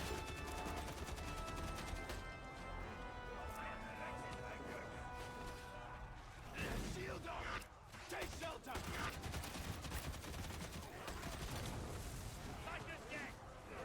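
Shotgun blasts ring out in a Warhammer 40K Rogue Trader battle, a dense string of booming shots and impacts layered over a continuous rumbling backdrop, with a voice talking throughout.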